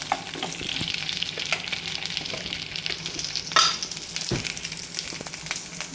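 Steady sizzling and frying of eggplant curry in a pan with occasional stirring scrapes and clinks, continuous and close, no voices.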